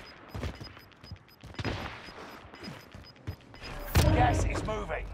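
An H4 Blixen fires in Call of Duty Warzone on Rebirth Island in short bursts of sharp, close shots separated by pauses. A heavier burst follows near the end, with a voice talking over the gunfire.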